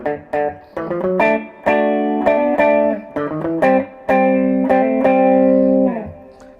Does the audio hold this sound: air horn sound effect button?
no